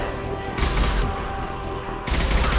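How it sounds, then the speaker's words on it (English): Concussive shot fired in the video game Mass Effect 2, sounding as two loud, broad blasts, one at about half a second and another near two seconds, each followed by a sustained rumbling roar over constant battle noise. "Firing concussive shot!"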